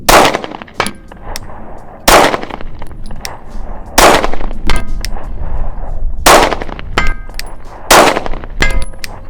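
Loud, close pistol shots from a Shadow Systems MR920 firing cheap ammo at steel targets out to 125 yards, about five sharp reports, each followed by the ringing clang of steel, in an uneven rhythm.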